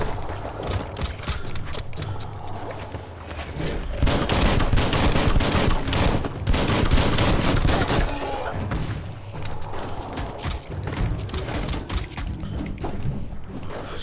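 Rapid gunfire bursts in the video game Biomutant, a dense, loud fusillade of repeated shots and thuds that swells and ebbs over a steady game soundscape, with no voice over it.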